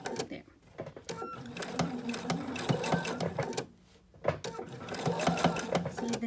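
A domestic sewing machine stitches in steady rapid bursts, with a brief pause midway before it runs again, loud and close, as someone sews fabric fortune cookies.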